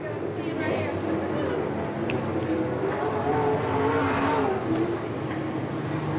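Open-wheel race cars battle at Tennessee National Raceway speedway, their engines roaring in a continuous loud drone with rising revs as they pass, under an announcer's commentary.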